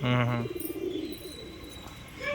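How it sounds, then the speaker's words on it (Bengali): A male tumbler pigeon gives a short, deep, resonant coo at the start, followed by softer murmuring and faint bird sounds close by. "এই দেখে নিন একটা নর পায়রা"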